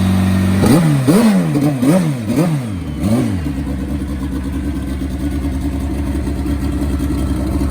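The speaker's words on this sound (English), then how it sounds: "Here comes the Turbo KZ once more." Turbocharged Kawasaki KZ drag motorcycle making a pass, loud and close, with a rapid series of revving gear-shift surges in the first few seconds before settling into a sustained high-pitched engine roar as it pulls away.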